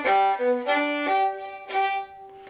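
A fiddle plays a G roll divided evenly over three Gs, several clear bowed notes in quick succession at close range, sounding alone.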